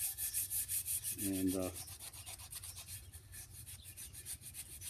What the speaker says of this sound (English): I'm just kind of giving it a sanding.